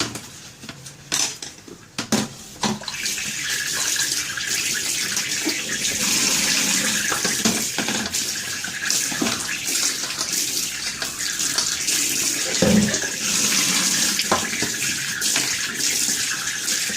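Storage boxes are washed under a running tap, with steady splashing water and intermittent clatter of plastic containers knocking against a sink, close and continuous throughout.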